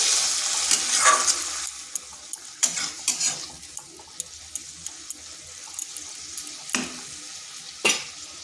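Flat beans stirred in a pan with a little water, a wet sizzle that fades after the first second into sparse, sharp clinks and scrapes of a spoon against the pan; no talk.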